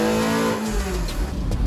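All-motor Honda Civic street car engine revving hard through its peak-torque range, loud and close, with the drone breaking up unevenly as it misfires, no talking.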